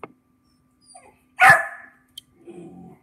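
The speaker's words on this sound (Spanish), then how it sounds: "Lo que pasa es que Tony, el mismo perro se está ladrando a él mismo." A dog barking at its own reflection in a mirror: one short, sharp bark in the middle, with small whimpering sounds before and after in an otherwise quiet room.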